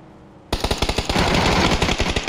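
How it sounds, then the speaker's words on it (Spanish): After half a second of quiet, rapid automatic gunfire in a shooter video game erupts in loud, tightly spaced bursts that blur into a continuous rattle. "Disparan desde allí."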